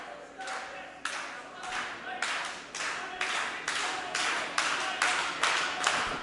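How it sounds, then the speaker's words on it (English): A wrestling crowd at a Firebrand Championship match claps in unison for Anthony Henry, with steady, rhythmic claps about twice a second that grow gradually louder, over a faint background murmur. "Rich Bass calling for the crowd to stop cheering for Henry"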